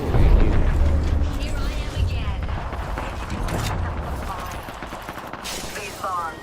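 Sniper gunfire in Apex Legends, heard in a battle under fire: a loud burst of shots and booming impacts up front that gradually eases into scattered lighter cracks, with a voice talking over parts of it.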